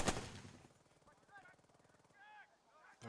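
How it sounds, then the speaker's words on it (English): Machine gun fire in the video game Burden of Command, a sharp loud burst at the start followed by a rapid rattling stutter of shots fading under quieter game sounds and brief tonal effects. "I got an MG active, so let's pound away at these units"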